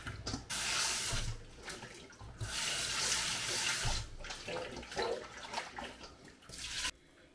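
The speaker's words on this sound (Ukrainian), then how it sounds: "Картоплю ми почистили, помиємо її." Peeled potatoes are rinsed under running tap water, a loud continuous splashing with short breaks and changes in flow as they are handled, then an abrupt stop near the end.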